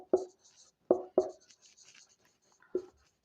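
Teacher writing on a board during a maths lesson, a few sharp taps with soft scratchy strokes between them, close and quiet, with no talking.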